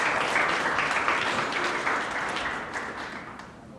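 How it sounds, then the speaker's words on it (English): At an Earth Day essay contest awards ceremony, an audience claps for seventh grade winners, a brief burst of moderate applause that slowly tapers off. "let's give a round of applause for 7th grade."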